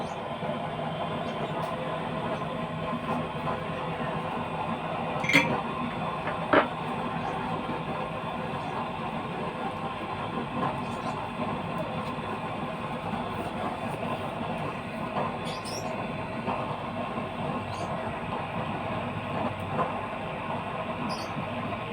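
A steady, broadband mechanical roar from the blower fan of a homemade waste-oil burner, running below half speed, continuous with a couple of brief clicks and no speech.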